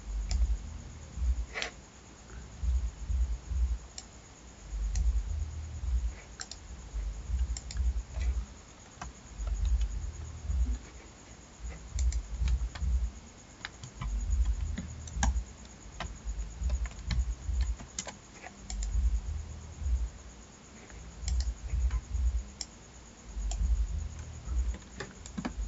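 Sharp, evenly spaced mouse clicks from a computer mouse in Adobe Illustrator tick along steadily at close range, with no voice over them.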